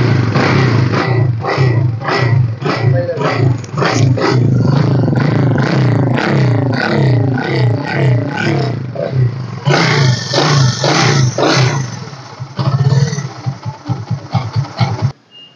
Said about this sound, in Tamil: இது வந்து வாங்க கிக்கரில் ஸ்டார்ட் பண்ணி காமிக்கிறேன்.